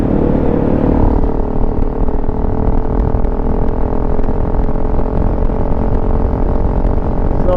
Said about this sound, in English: Accelerating in 6th gear, no problem.